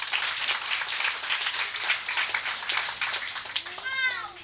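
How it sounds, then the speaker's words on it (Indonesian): An evening audience at a gathering claps together in sustained, fairly loud applause, and a brief high mewing sound rises over the clapping near the end. "Beri tepukan kepada Anda semua."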